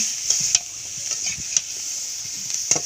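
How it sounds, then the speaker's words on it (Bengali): Green chili paste with ground ginger fries in a pan, a steady close sizzle with occasional stirring scrapes and taps of a spatula, and no talking. "ভালো করে কাঁচা লঙ্কাটা কষিয়ে নেব"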